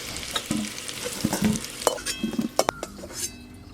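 Potatoes sizzle in a hot pan while a spatula stirs, with scattered scrapes and light metal clinks; no voices.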